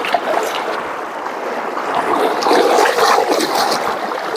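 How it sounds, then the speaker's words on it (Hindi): A flooded river's waves rush and splash continuously close by, a loud, turbulent churn of water with no talk over it. "काफ़ी आवाज़ भी कर रहा है इसकी लहरें।"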